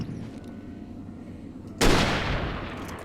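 A single loud, close gunshot goes off from the Alan Wake video game, with a sharp burst that trails into a long rumbling decay after a quiet stretch of low ambient hum.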